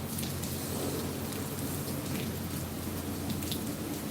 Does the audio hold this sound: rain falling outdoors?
yes